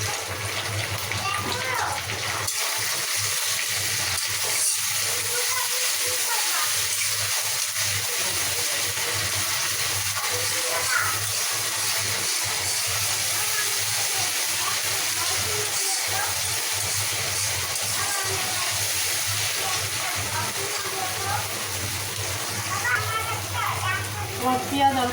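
Onion with ginger and garlic paste fries in oil in a pan, giving a steady, close, crackling sizzle that persists throughout while someone speaks over it.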